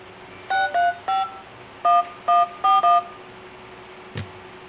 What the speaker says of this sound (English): if I were to dial, I'll dial my office here